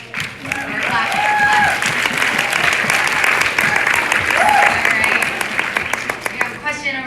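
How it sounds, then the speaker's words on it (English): An audience at a Poshfest 2019 live thrifting talk bursts into sustained applause, a loud, steady clatter of many hands with a few voices and whoops mixed in, then fades at the end. "We're clapping."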